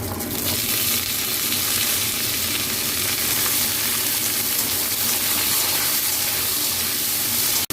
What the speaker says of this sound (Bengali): এটা হয়ে গেছে, আমি আনাজগুলো ভেজে নিচ্ছি